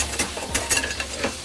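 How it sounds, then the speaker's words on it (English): Pork fat cooking down in a pan for adobo, crackling and spitting with quick irregular pops over a bright steady sizzle, close and moderately loud, with no one talking. "first thing we do is cook the fat"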